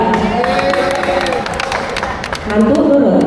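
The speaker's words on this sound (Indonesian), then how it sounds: "boleh tepuk tangan sekali lagi untuk para cast dan juga para karyawan kita" Audience applause at a gala premiere of the Indonesian film Norma, dense steady clapping and crowd noise filling the room, with a voice talking over it near the end.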